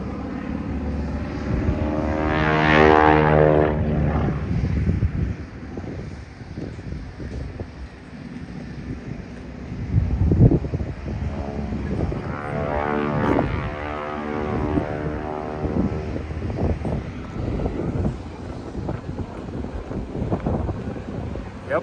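A propeller-driven flying taxi aircraft taxiing at Oshkosh 2023, its engine drone swelling and passing nearby with a droning propeller buzz, mixed with gusty wind noise on the microphone.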